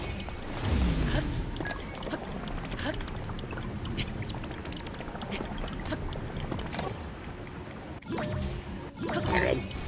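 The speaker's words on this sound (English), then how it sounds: "I love the sound of him defrosting." Wet dripping and trickling as a character defrosts in a Zelda video game, a steady watery texture running throughout with a few louder splashy bursts near the end.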